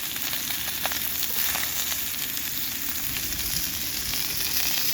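Spam fries in a cast iron pan outdoors at a creek, a steady close sizzle with scattered pops and crackles, no voices.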